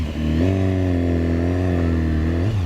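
BMW S1000RR sport bike engine running close by on a quiet stock exhaust, a steady mid-pitched drone with a slight rise and fall in revs, loud and continuous with no voices.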